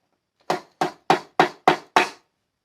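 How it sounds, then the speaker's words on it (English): Chisel struck with a wooden mallet to chip off a turned tenon held in a jam chuck: six light, evenly spaced knocks, close and distinct, in an otherwise quiet room. "light taps with the chisel and my mallet, it's just, it does a decent enough job for me"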